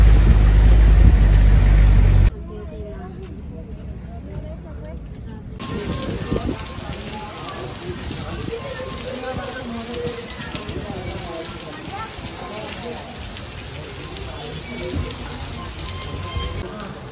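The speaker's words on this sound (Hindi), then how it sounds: "नारायण में बारिश स्टार्ट हो गई है" Steady rain patters and hisses on a surface in Naran, Pakistan, a dense continuous wash with a louder rumbling stretch at the start and a brief quieter gap.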